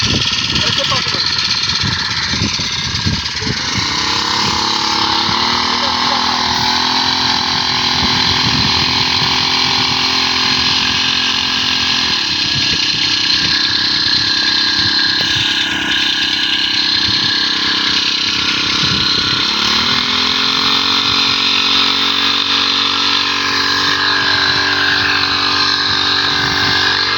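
A generator-powered sprayer engine runs in a farm field, a loud, steady motor drone with a few pitch shifts, continuous for the whole stretch while people talk over it.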